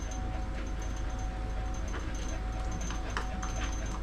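A terrier dog whimpers and whines softly in short bursts while being groomed, over a steady loud hum of grooming equipment running close by.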